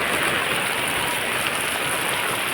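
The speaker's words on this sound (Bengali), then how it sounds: "দেখুন বাইরে খুব বৃষ্টি হচ্ছে" Heavy rain falls outside during the day, a dense, steady broadband hiss of downpour filling the whole moment, loud and unbroken with no voices.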